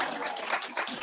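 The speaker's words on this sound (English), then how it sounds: "you can clap for Aaron" A legislative audience claps for Delegate Aaron Kaufman, a brief, dense burst of applause filling the whole second at steady loudness.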